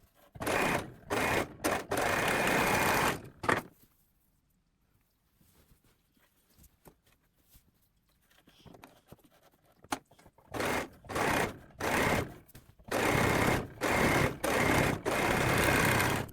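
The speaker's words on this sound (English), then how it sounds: "finish the shoulder seams you have just sewn with an overlocker or serger" An overlocker stitches the shoulder seams of a blouse, its rapid mechanical chatter running in short bursts, going quiet in the middle, then returning in longer runs, close and clear with no speech.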